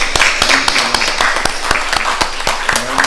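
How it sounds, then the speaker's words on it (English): A church congregation applauds, a steady wash of many hands with sharper individual claps standing out throughout, close and fairly loud, with no talk over it. "give him a round of applause for all he's done"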